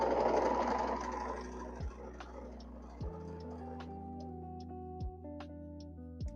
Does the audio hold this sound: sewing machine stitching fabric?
yes